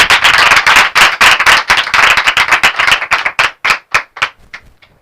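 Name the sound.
audience clapping loudly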